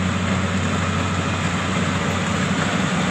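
Two engines of a rice harvesting machine run together at steady full power out in a paddy field, a constant heavy low drone with a continuous mechanical roar over the whole clip and no talk.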